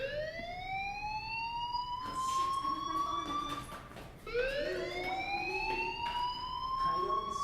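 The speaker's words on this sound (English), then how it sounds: "do you hear that fire alarm? That means you should be outside." A fire alarm sounds in the video game Life is Strange, a loud rising electronic wail that repeats twice in long sweeping cycles, with faint background noise between them and no talking.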